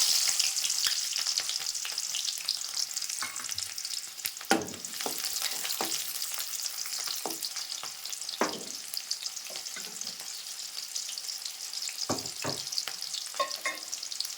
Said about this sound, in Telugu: ఆనియన్స్ వేసేస్తున్నాను.